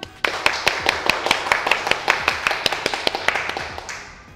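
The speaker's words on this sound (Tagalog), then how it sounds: "Hindi nyo ba papalakpakan si Sir Anton?" About seventeen hand claps ring out in a steady, even rhythm, sharp and fairly close, slowing slightly as they go.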